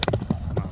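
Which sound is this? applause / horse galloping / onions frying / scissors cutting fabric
horse galloping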